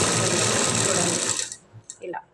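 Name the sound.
sewing machine stitching a work blouse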